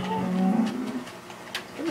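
A cow in the Minecraft video game lets out a low, drawn-out moo up close, followed by a brief second lowing call; no one speaks over it.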